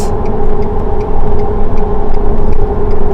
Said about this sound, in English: Just take a listen to the tires.